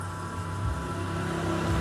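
A steady electric whirring hum with a low drone from a Yamaha Mio motorcycle's electric fuel pump, continuous and unchanging throughout, close by with no voices.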